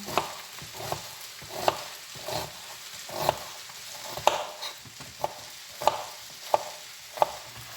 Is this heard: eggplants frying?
yes